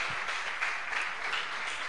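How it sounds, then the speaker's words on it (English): An audience claps at an awards ceremony for a retro computer game development contest as winners are called up; a brief, steady wash of moderately faint applause with no voices over it. "Please, big applause"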